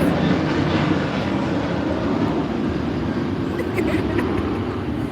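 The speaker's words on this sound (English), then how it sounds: "There's the plane." An airplane passing overhead, a broad steady roar that stays loud and constant across the whole stretch, with no voices over it.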